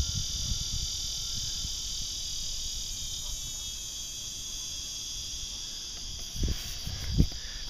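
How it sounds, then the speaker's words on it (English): Loud, steady insect buzzing drones outdoors on a walk, a continuous high whine holding throughout, with a couple of brief low thumps near the end. "It's probably some large insect buzzing that's making a large insect buzzing sound."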